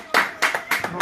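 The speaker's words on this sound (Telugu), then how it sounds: "నా తల్లి అలా క్లాప్ ఫర్ జెసికా." A few sharp hand claps for a small child land near and loud in an uneven rhythm, roughly four quick bursts with short gaps between.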